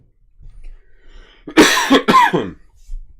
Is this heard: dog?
no